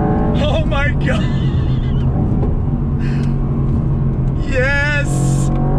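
A Mercedes-Benz AMG GT R engine on a race track, rumbling low and steady while downshifting, with an excited voice talking over the engine throughout.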